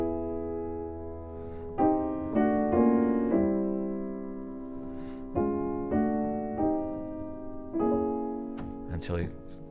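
An orchestra plays the closing bars of Debussy's Prelude to the Afternoon of a Faun, a varied return of the main theme. Soft sustained chords shift in gentle steps, each new entry swelling slightly before fading, with no voices.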